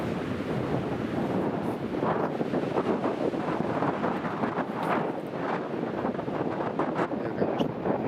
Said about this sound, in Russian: Тут ветер страшный, конечно.